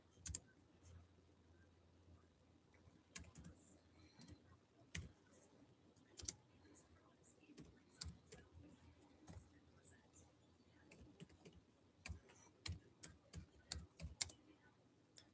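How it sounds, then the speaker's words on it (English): Keys clatter on a computer keyboard in irregular bursts of sharp, close clicks separated by short pauses, fairly quiet overall with a faint low hum in the background. "I'm just typing in my banner."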